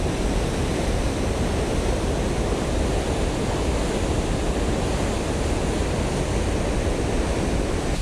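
Steady, heavy roar of the river rushing out at the Huka Falls outlet in New Zealand, a dense, unbroken wash of water noise filling the whole stretch with no pauses or voices.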